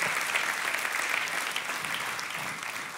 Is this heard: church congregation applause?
yes